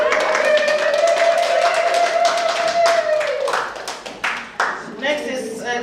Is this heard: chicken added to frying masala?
no